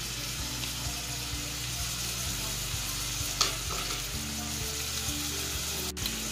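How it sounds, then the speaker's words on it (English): Saltfish sizzles steadily in melted butter in a pan, with a continuous close frying hiss and occasional light clinks of stirring. "So as it is frying up, to give it a little stir,"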